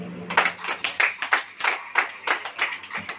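A church congregation claps together during a Hindi sermon, steady rhythmic clapping with about a dozen sharp bursts across a few seconds, close and fairly loud.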